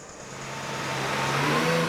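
A Peugeot race car engine at the 24 Hours of Le Mans drones steadily and grows louder, a close, continuous mid-pitched engine note building over a couple of seconds.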